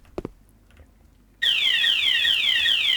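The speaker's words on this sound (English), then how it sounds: "that alarm, it's enough to drive you nuts" A repeating electronic alarm in the video game Mall Manager Simulator blares loudly and steadily, a fast series of falling high-pitched sweeps that starts abruptly after a couple of faint knocks and runs without pause.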